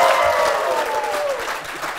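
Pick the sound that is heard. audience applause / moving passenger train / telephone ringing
audience applause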